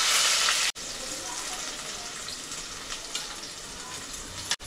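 Onion frying in a little hot oil for a Koli prawn pizza, a steady close sizzle that stays even throughout, broken by two brief cuts to silence.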